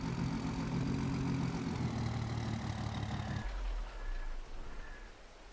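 A truck engine in Farming Simulator 22 idles with a steady low hum that drops in pitch and settles as the truck is parked.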